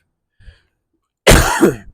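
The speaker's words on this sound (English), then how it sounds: "Pardon my cough." A single short, harsh cough bursts out close by after a brief moment of near silence, with a faint throaty sound just before it.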